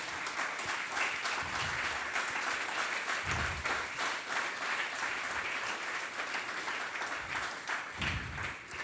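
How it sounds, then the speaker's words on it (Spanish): A church congregation applauds during a sermon, sustained clapping from many people that stays fairly even and moderately loud, with a few stronger low thumps scattered through. "Denle una ofrenda de palmas al Señor."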